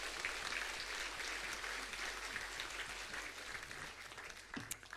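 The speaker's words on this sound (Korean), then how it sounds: "우리 박수로 우리 모시겠습니다" Steady applause fills a church hall during a Sunday service, sustained dense clapping from a congregation welcoming a pastor, loud and continuous throughout with no voices on top.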